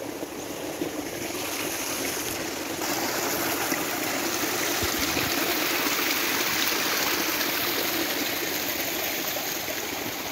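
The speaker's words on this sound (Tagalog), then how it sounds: "Sapa mo na among sapa diri." A small creek used to water rice fields runs in a steady, loud, continuous rush of flowing water, close by and unbroken, with no voices.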